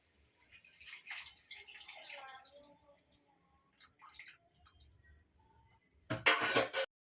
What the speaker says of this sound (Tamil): கூடவே நம்ம கொஞ்சம் தேவையான அளவு தண்ணியும் சேர்த்துக்கலாம்